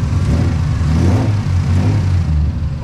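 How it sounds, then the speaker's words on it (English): A Nissan 300ZX engine idles at about 800 rpm, a steady, close, low mechanical rumble that holds even throughout with no talking over it. "Well, we're currently idling at 800."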